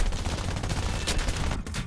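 Machine gun fire in the video game War Thunder from a single MG on a Bf 110 C-6, a dense, loud, continuous stream of rapid shots in a short burst.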